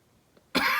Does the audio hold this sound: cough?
yes